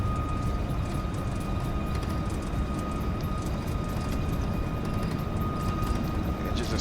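Jet engines on a simulated Boeing 737 MAX 10 airliner spooling at takeoff thrust, a constant loud roaring rumble with a steady high whine on top, unbroken for the whole stretch.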